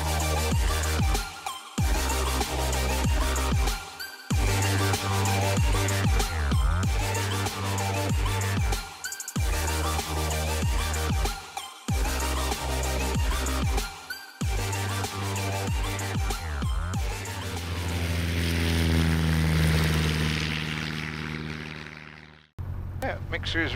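A Jodel DR-1050 light aircraft, flown from a farm strip in East Anglia, runs its piston engine before flight: a loud, steady propeller drone with rhythmic pulsing that rises near the end, then cuts abruptly. Speech runs over parts of it.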